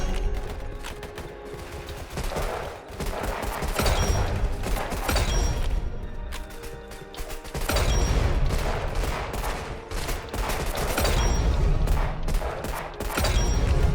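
Gunfire from a single-fire, high-recoil weapon in the Roblox Weird Gun Game, loud and close, with shots cracking in quick repeated bursts that run almost without a break, briefly easing around the midpoint.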